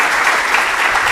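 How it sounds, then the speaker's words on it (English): Steady, dense round of applause from an audience at a talk on dating myths, loud and continuous throughout with no pauses. "just another round of applause"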